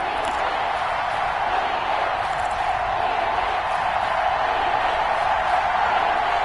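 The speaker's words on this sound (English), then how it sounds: "the crowd getting into it as we come up on a big 3rd down" A football stadium crowd roars steadily before a big third down in a Cowboys game, a dense, continuous wash of cheering with no breaks or distinct voices.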